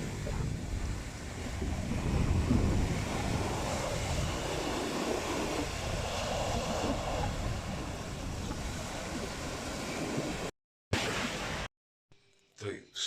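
Wind buffets the microphone on a beach, with a broad roar of ocean surf underneath, steady and loud before cutting out near the end.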